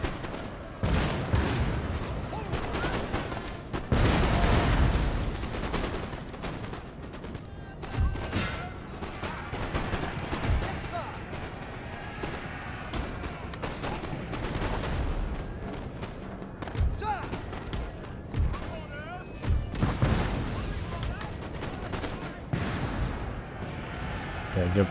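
Cannon artillery fire in the battle game Napoleon: Total War, repeated booming blasts and crashing impacts throughout, mixed with battle noise and someone talking over it.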